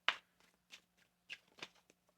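Tarot cards shuffled by hand in a series of short, crisp riffling bursts, close and quiet against a faint steady hum.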